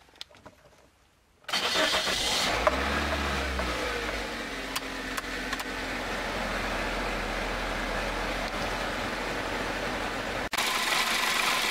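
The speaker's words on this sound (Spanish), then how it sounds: "voy a encender el auto" A car engine cranks and starts after a moment of quiet, then settles into a steady close idle with a brief rev, the running engine continuing to the end.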